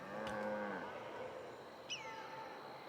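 A single drawn-out cow moo from cattle in Tropico 6 rings out at the start and fades after about a second, followed by a faint high chirp over a quiet farm ambience.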